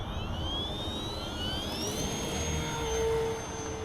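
An E-flite T-28 Trojan 1.2m electric RC airplane on a 4S battery takes off with light wind, its motor and propeller whining steadily with a rising, shifting pitch, fairly close and constant throughout.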